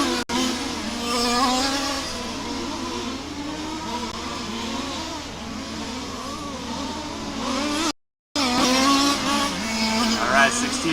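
Race car driving a fast lap in a Warm Springs race, engine droning and shifting pitch as it passes, with a brief dropout of silence near the end before the engine returns loudly.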